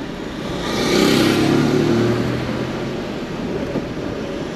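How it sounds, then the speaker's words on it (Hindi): Heavy road traffic on a street in Jeddah, a steady dense roar of car engines and tyres with a louder vehicle swelling past early on, continuous and fairly loud with no talking. "इतनी ज़्यादा ट्रैफिक है ना"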